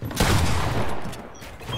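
A dense burst of Fortnite gunfire in a 1v1 Battle Royale match, rapid overlapping shots lasting nearly two seconds, loud and close, with no talking over it.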